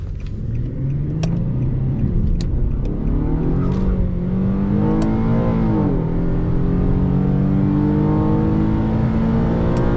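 An Infiniti G37S engine revs hard toward redline on a country drive, a loud, steady rising roar with a brief dip around a shift, heard from inside the car with no talk.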